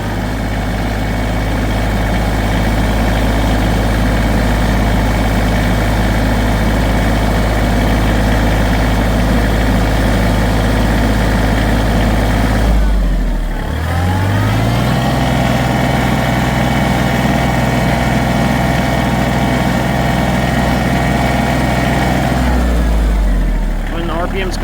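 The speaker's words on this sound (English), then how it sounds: "And you'll see it start revving up as I give it gas." A Kioti tractor engine idling loud and close with a heavy low throb, briefly dipping as the throttle changes, then settling at a higher steady pitch before dropping back at the end.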